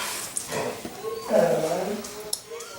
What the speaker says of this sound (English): My doggy is barking outside.